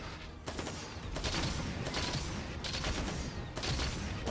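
Cannon fire in the video game Monster Hunter Rise, a dense, loud run of booming blasts and rattling bursts that keeps going with brief gaps, with no talk over it.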